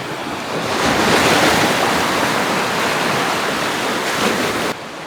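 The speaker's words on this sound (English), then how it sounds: "The power of these waves coming in is pretty incredible this morning." Heavy surf from Lake Superior pounds the shore in strong wind, a dense, roaring wash of breaking waves and gusty wind noise that stays loud and continuous, with no talking over it.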